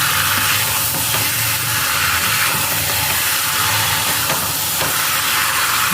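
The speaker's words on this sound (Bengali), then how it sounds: "ভালো করে নেড়ে নিচ্ছি।" Chicken with spices for a red curry fries and is stirred in a pan, a loud continuous close sizzle with scraping strokes of the spoon throughout.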